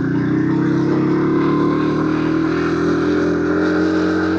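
A motorcycle moves through a road tunnel in Pakistan, its engine drone loud and close, holding steady with tonal harmonics that swell gently, as the enclosed space adds a continuous reverberant hum and no one speaks.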